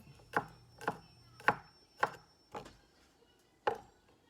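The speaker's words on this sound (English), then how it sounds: "Next, I'll mince up the garlic." Knife chopping garlic cloves on a cutting board for Mexican meatball soup: six separate sharp chops, close and clear, about half a second apart with a short pause before the last, with no talk.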